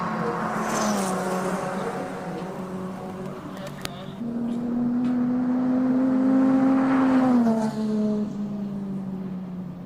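Toyota MR2 race car engine at a hillclimb event, a sustained droning note that rises and holds steady under the throttle, then eases and drops back, with broadband road and crowd noise around it and commentary talk over the top.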